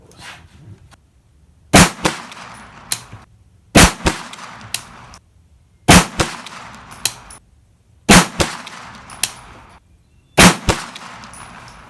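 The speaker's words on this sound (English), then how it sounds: "Let's see how this first 5-shot group goes." Five sharp gunshots from a PSA AKV 9mm pistol-caliber carbine fitted with a Nikon red dot, spaced about two seconds apart, each loud crack followed by a short ringing clatter at the range.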